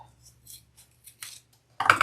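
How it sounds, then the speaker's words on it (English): Scissors snipping through zipper tape during bag sewing, several quick soft cuts close up in a quiet room, ending with a louder rustle of handling. "Let's trim that zipper tape"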